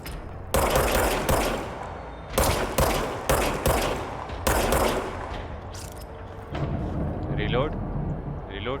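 Repeated bursts of gunfire from a weapon in the video game Control, several rapid volleys in the first half, then quieter scattered shots with someone talking over them.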